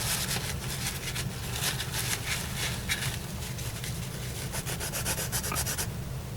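A sanding sponge is rubbed back and forth with a steady scratchy rhythm of quick repeated strokes, close and continuous, while weathering model cars.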